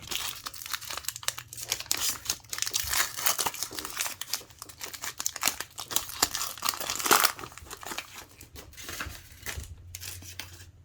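Foil wrapper of a Pokémon Chilling Reign Moltres booster pack torn and crinkled open by hand, a dense stream of crackling rips and rustles with a louder tear near the middle, close and steady with no talking.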